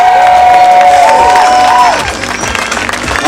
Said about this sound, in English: Let's hear some big claps.